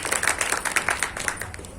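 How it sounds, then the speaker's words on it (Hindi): An audience at a Holi celebration poetry recital claps together in a dense, brisk burst of applause, steady and fairly loud for a couple of seconds. "एक बार और तालियां उस मजबूरी के लिए"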